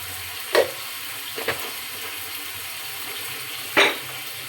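Ghee poured into a pan of sizzling rohu fish kofta curry, giving three short bursts of hissing, spattering sizzle over a quiet steady background, with no one speaking.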